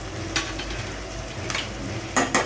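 Chili powder, turmeric and garam masala sizzling in hot oil with softened onion and tomato for a Maharashtrian mixed vegetable bhaji, a steady close fry with a few sharp spoon scrapes and clinks against the pan.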